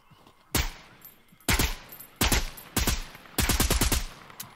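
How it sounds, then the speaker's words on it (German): Video game gunfire crackles in sharp, loud bursts: a single shot, then several short automatic volleys spaced about a second apart, ending in a longer rapid stream of shots, with no talking. "Ja, hier wird schon geschossen."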